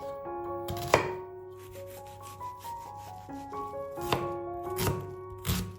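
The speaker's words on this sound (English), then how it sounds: "1 medium-size onion, diced finely" A medium onion being finely diced with a knife on a wooden board, a handful of sharp chopping knocks spaced apart, heard under steady melodic background music.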